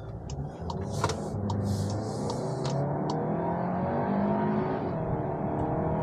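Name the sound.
2023 Volkswagen Arteon accelerating at full throttle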